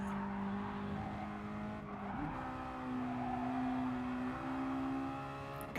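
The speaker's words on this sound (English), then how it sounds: "You can hear these little Mazdas struggling" Small Mazda race cars strain around the Suzuka East circuit, a steady loud engine drone with shifting pitch as they lap, tyres scrubbing through the corners, continuous throughout.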